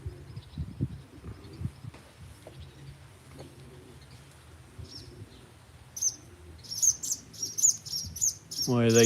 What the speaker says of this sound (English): Why are they chirping? Something's around.